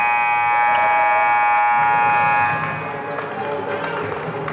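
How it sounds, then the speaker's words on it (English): At a junior varsity high school ice hockey game, the rink buzzer ending the first period blares loud and sustained for over two seconds, then cuts off into crowd noise and an announcer talking. "and the buzzer"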